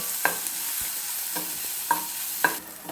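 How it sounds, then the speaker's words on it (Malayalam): Mustard seeds, dried chillies, curry leaves, crushed garlic and shallots sizzle in hot oil for a Kerala ash gourd curry, a close bright hiss broken by a few sharp stirring scrapes and taps. "കറിവേപ്പിലയും നമ്മൾ ചതച്ച് വെച്ച വെളുത്തുള്ളിയും ചെറിയുള്ളിയും ഇട്ട് കൊടുക്കുക എന്നിട്ട് നന്നായിട്ടൊന്ന് മൂപ്പിച്ചെടുക്കുക"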